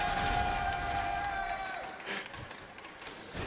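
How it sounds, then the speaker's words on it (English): An esports audience cheers at a League of Legends LCS EU Summer 2016 match between Unicorns of Love and Schalke 04. A dense, loud crowd roar opens the moment, then gradually thins and fades. "See, now your first cheer was from a crowd that literally cheers from anything"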